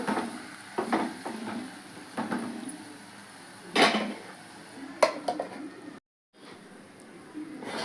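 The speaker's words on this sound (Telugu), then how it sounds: "సిమ్ చేసేసి మూత పెట్టేస్తాను" A lid is set on a cooking pot of small bitter gourd and tomato curry on low heat. A few close metallic clinks and clatters sound against a quiet kitchen background.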